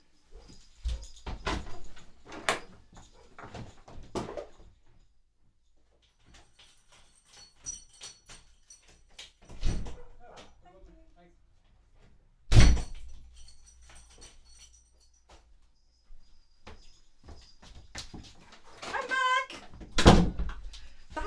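A front door at home is opened and shut, giving a few sharp thumps and knocks amid scattered shuffling, with a dog whimpering nearby and brief talk now and then.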